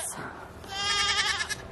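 Farm goats bleat close by in a short burst of wavering, nasal cries that swell and fade over under two seconds, with no talking over them.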